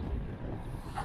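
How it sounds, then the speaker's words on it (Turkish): Rough wind buffeting a microphone while cycling through the countryside from İzmir toward Urla, a steady low rumble with no voices. "Ve sonsuz rüzgar."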